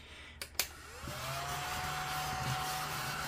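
A household vacuum cleaner starts after a couple of clicks and spins up to a steady, loud whine that holds to the end, with no talking.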